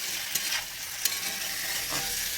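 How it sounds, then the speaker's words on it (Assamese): Food fries in a pan with salt, giving a dense, bright hiss of sizzling with a few quick stirring scrapes, close and continuous throughout. "নিমখ দি মই ভাজি থাকিম"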